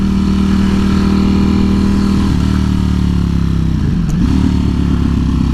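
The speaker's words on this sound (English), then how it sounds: "Man, the sound on this set of pipes is just amazing." Exhaust of a 2018 Ducati Panigale V4S motorcycle while riding: a loud, steady engine drone with a dip and recovery in revs, continuous throughout with wind rush and no talk.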